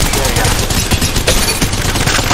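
Rapid, continuous gunfire from Apex Legends Mobile, loud and close, with dense overlapping bursts running the whole stretch and no pauses.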